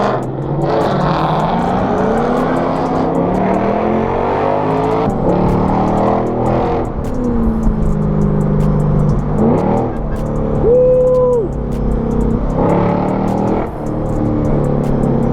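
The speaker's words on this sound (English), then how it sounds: "Yeah, that was that Lexus GS over there." A second-generation Lexus GS at a local car cruise revs and accelerates past, its engine loud and close with rising and falling pitch, over a steady din of other engines.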